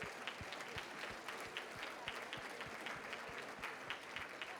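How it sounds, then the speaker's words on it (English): Audience clapping at a 25th anniversary Mother's Day charity luncheon, a steady patter of many hands with a few sharper individual claps standing out, held at a moderate, even level throughout. "I want to give a round of applause to every single person that helped to put this together"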